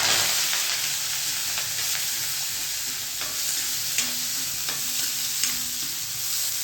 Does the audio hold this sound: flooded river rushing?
no